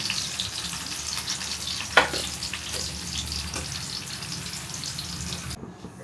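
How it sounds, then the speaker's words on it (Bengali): Steady, hissing sizzle of onions frying in hot oil for chilli chicken, with a brief clink partway through; no voices. "পেঁয়াজ ভাজা হয়ে গেছে রেডি। পেঁয়াজ ভাজাগুলো তুলে ফেলবো আস্তে আস্তে।"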